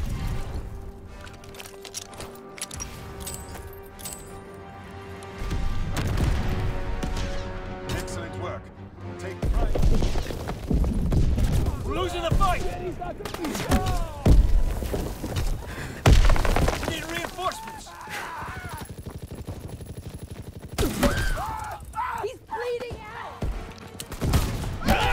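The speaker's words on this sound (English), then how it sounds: "Enemy mortar fire incoming." Enemy mortar fire and explosions in a WWII shooter game, heavy thuds and blasts with scattered gunfire and debris, loud and irregular, with voices shouting in between.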